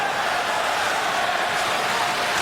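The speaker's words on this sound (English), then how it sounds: "Listen to this crowd." Arena crowd at an NHL hockey game between the Calgary Flames and Detroit Red Wings during a five-on-three power play, a constant, dense roar of thousands of fans with no distinct voices standing out.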